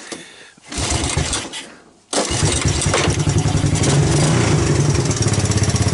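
A Honda ATC200S three-wheeler engine sputters and catches after a short struggle, then settles into a loud, close, steady single-cylinder running rhythm with a quick throttle blip.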